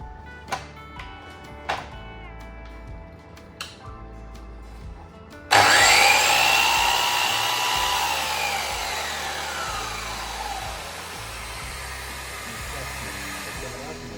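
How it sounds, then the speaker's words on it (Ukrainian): A DeWalt DSW727 miter saw motor starts after a few sharp knocks, spinning up to a loud, high whine that slowly winds down while still running. "Ті, хто працював з професійними пилами, просто послухайте звук двигуна."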